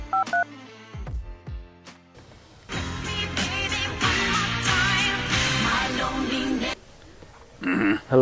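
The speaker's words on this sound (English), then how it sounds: "I need to make a phone call just to make sure everything's nice and clear." Touch-tone keypad beeps on a phone dial out as a short run of distinct tones, then a long stretch of music or ringing dominates before a brief voice at the end.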